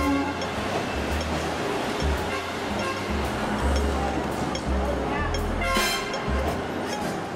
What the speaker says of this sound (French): Pour se rendre au centre-ville, un trajet en tram est indispensable. Certes, les rames sont lentes, dépourvues de climatisation